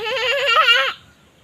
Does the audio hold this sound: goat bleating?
yes